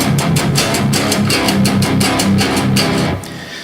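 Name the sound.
guitar playing solo riff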